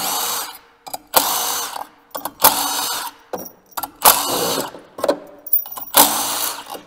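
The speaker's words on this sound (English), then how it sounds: "I'm going to take the first 5 bolts off, leaving the 6th one on" Bolts being removed from a motorcycle primary clutch cover with a power tool, several loud close whirring bursts of about half a second each, separated by short pauses, alone without talk.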